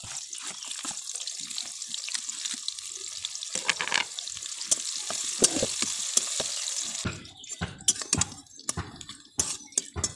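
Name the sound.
onion and bay leaf frying in hot oil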